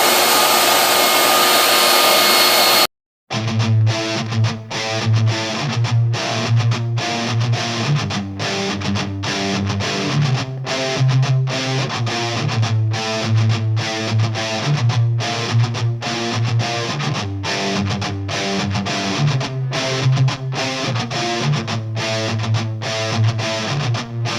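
Spray gun applying a wet coat of clear onto a new car bumper skin: a brief loud blast of air first, then a steady droning hiss with rhythmic pulsing that runs on without a break.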